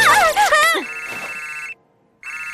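A phone rings in the Miraculous cartoon, a bright electronic ringtone that starts right after a short burst of speech, stops briefly, then sounds again, loud and close.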